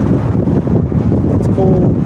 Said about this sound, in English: you know it's windy